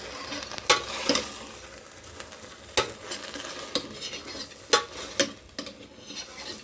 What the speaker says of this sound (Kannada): ಇವಾಗ ಎಲ್ಲ ಚೆನ್ನಾಗಿ ಮಿಕ್ಸ್ ಮಾಡೋಣ.